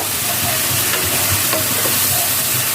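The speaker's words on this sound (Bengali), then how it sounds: "মশলাটা ভালোভাবে কষিয়ে নেওয়ার পরে আমি সবজিটা দেবো" Vegetables hit hot frying spices for a Bengali mixed-greens chorchori, producing a loud, steady close sizzle that fills the whole stretch, with faint stirring scrapes underneath and no voices.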